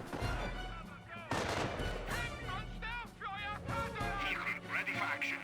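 Rapid gunfire and explosive bursts from a Company of Heroes 1 battle between Panzer Elite and US forces, dense and continuous beneath steady excited commentary and game music.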